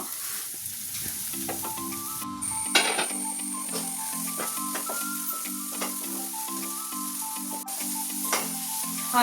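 Chillies and curry leaves sizzle in hot oil in a pan for a spicy Onam sadya side curry, a steady close frying hiss broken by occasional sharp stirring clinks and scrapes.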